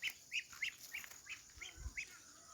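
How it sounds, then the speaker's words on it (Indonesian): Duck calls, quite faint and distant, repeating as a steady series of seven or eight short, evenly spaced calls with no talking over them. "Jadi ini namanya bebek ya."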